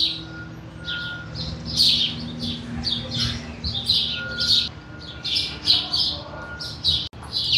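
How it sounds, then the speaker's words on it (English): Many birds in a building's ceiling chirp and tweet loudly and continuously, overlapping calls filling the space with bright, busy chatter close by. "there are a lot of birds in the ceiling and they are loud."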